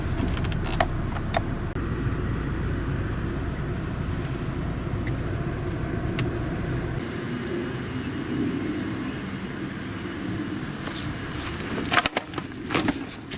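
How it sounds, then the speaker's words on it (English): A Mazda Miata is driven slowly into a garage: a steady engine drone and rolling rumble, then a few sharp knocks and clunks near the end. "But we got to put the Miata back in the garage."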